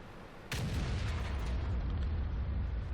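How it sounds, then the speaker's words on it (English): A single heavy boom from a derp gun tank firing in the World of Tanks video game, a sudden loud blast followed by a long rumbling decay that fills the rest of the moment. "That must be what they call the derp gun."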